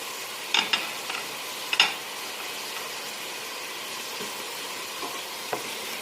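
Minced kefta meat with onion, garlic and salt sizzling steadily in a pan, with a few sharp clinks and scrapes from stirring, heard up close with no talking.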